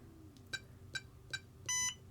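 Three short electronic beeps at an even pace, followed by a slightly longer two-tone beep, from a Flysky Paladin 18 radio transmitter running EdgeTX, quiet and close with a faint background hiss.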